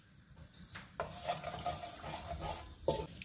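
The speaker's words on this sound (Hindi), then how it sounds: "1 टीस्पून जीरा डालेंगे। जीरे को फ्राई होने देंगे।" Cumin seeds frying in half a cup of hot oil in a pan for a dhaba-style mixed vegetable dish, a light crackling sizzle with spoon clinks and stirring scrapes, near and fairly quiet.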